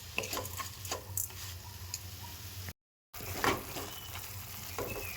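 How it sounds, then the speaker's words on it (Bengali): Sugar being stirred gently into chhana (fresh cottage cheese) in a pan over low gas heat for sandesh, giving soft scraping and faint sizzling with light ticking stir strokes, no talking. "চিনিটা দিয়ে ছানার সাথে এইভাবে আমি আলতো হাতে নাড়তে থাকবো।"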